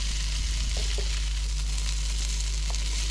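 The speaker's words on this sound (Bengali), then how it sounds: "ধনিয়া পাতা কুচি দিয়ে নাড়িয়ে নেব যাতে ঘ্রাণটা সব দিক দিয়েই বের হয়" Egg noodles with chopped coriander are stirred in a frying pan, giving a steady close sizzle with a few soft scrapes and stirring clinks throughout.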